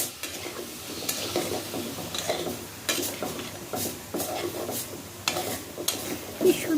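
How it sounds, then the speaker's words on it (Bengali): Taro roots frying in a pan with turmeric, stirred in repeated scraping strokes over a steady close sizzle, with occasional clinks of the utensil against the pot. "হলুদের গুঁড়া দিয়ে একটু ভাজা দিব"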